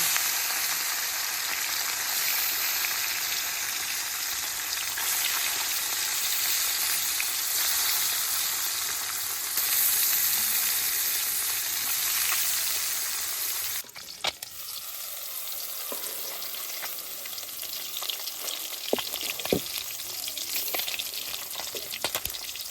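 Small freshly caught river fish, puti and katkuli, fry in a pan with a steady, loud, dense sizzle that drops in level partway through, followed by sparser crackles and pops.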